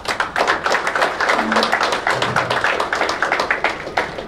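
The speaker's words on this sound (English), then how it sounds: "for that, our sir needs a big applause" Audience applause after a speech at an event with the Goa Health Minister in India, a dense wash of many hands clapping steadily and fairly loudly throughout, with no voices over it.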